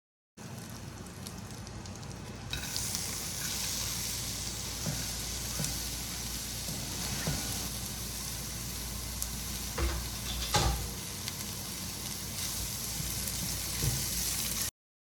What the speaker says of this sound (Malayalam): അതിനൊരു ചൂട് കട്ടിയുള്ള പാത്രം വെച്ച് കൊടുത്ത് അതിലേക്ക് ബട്ടർ ഇട്ട് കൊടുത്തിട്ട് ആ ബട്ടറിനകത്ത് കിടന്നിട്ടാണ് കേട്ടോ നമ്മൾ ആ ഒരു ചിക്കൻ ഒന്ന് വേവിച്ചെടുക്കുന്നത്.